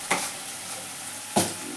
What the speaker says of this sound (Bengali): পেঁয়াজগুলো ভালো করে ভাজা হোক, ভালো করে লাল লাল করে ভেজে নিই